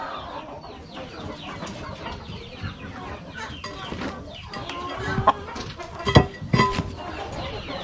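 Young chicks cluck and peep close by in a coop amid scratchy rustling, with a few louder squawks near the end.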